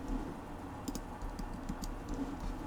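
Soft, quick clicking of keys on a computer keyboard, faint and steady over a low background hum.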